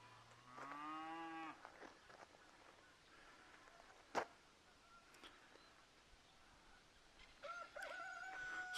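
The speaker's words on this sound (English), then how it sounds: "Right now you hear the animals and other stuff in the background. Cows and such." A cow lets out a long low moo nearby, followed by a sharp knock and later a rooster's crow in a quiet rural setting.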